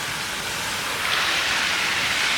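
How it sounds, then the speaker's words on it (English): Small fountain in Yalta, Crimea, splashing steadily as a continuous broadband hiss of falling water, close and even throughout, with no voices. "Little fountain right here."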